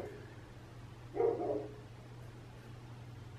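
A single loud dog gives one short burst of barking near the microphone over a steady low hum, with quiet surroundings before and after.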